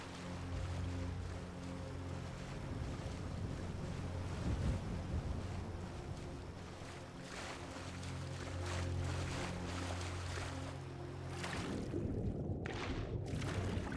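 A river flows in the Skyrim video game, a steady, continuous rushing of water with low droning tones held beneath it.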